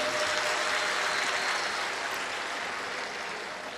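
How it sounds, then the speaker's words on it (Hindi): A crowd at a Shiv Mahapuran religious gathering claps loudly for the host family, a dense, steady roar of applause that fades a little toward the end. "यजमान परिवार के लिए जोरदार ताली बजाएं"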